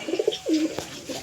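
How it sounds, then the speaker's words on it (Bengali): A pigeon that has just been released from the hand coos close by, giving a few quick low notes and then one longer drawn-out coo, with faint background noise. "পায়রাটা একটু ছেড়ে দেখিয়ে দে।"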